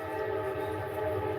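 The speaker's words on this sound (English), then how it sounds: "train" A train passes with a steady, sustained horn blast over a low rumbling of rail cars, heard alone with no talk.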